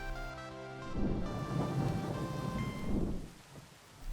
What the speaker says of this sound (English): I told you not to stay outside during a thunderstorm